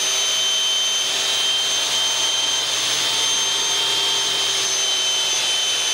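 Continuous high-pitched whine of a power drill running steadily at speed, winding wire into a coil on a jig for chainmail rings, close and loud, with no pauses.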